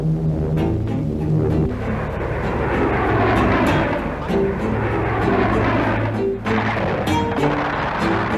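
Carrier aircraft engines droning loudly overhead in a wartime setting, a continuous heavy roar that swells and fades slightly across the clip, alone without talking.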